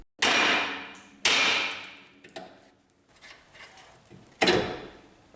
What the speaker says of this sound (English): use a hammer here to bust this loose